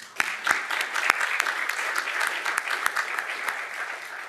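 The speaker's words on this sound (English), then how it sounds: "So let's give yourselves a round of applause." Audience applause at a State of the City address in Columbia, Missouri: a dense, steady wash of clapping from a large crowd with a few sharper claps standing out, no talking over it.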